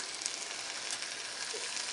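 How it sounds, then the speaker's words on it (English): Chicken sizzling and frying in a hot pan, a steady close hiss with faint crackles and no voices, for a Chicken Alfredo. "You guys could hear it sizzle."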